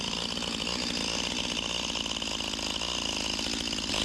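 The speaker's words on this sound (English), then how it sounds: "this chainsaw has had a hard life." An old, heavily worn chainsaw engine runs steadily and loudly, close by, with a rough buzzing drone throughout.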